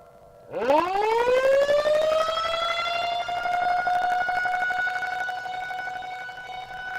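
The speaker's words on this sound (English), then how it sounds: "Most counties have outdoor tornado sirens. Their loud wail assures everyone outside can get the warning." An outdoor tornado warning siren starts up, rising quickly to a loud sustained wail that holds steady for several seconds.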